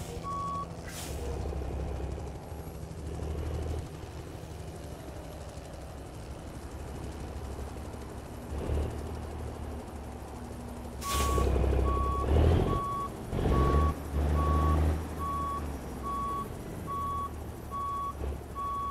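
An International 9900i semi truck in American Truck Simulator reverses to turn around, its steady backup alarm beeping in a regular rhythm over a low diesel rumble, with an air brake hiss partway through.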